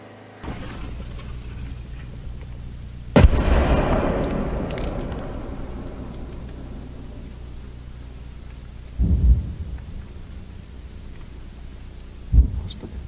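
Distant artillery shelling in a Ukrainian war zone: three deep booms spaced several seconds apart, each trailing into a low rolling rumble over a quiet background.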